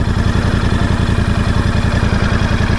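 Royal Enfield Bear 650 motorcycle exhaust idling steadily nearby, a loud, even low thump with a regular pulsing rhythm and slight mechanical clatter, running alone without voices.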